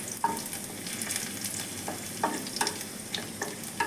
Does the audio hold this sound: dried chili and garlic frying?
yes